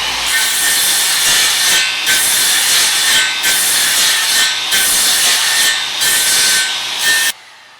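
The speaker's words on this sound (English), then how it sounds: "you're going to cut a bunch of rip cuts here in the side grain, just a bunch of them" A circular Skil saw makes repeated rip cuts through wood side grain, a loud continuous whining buzz broken by brief dips as each pass ends, then cutting off abruptly.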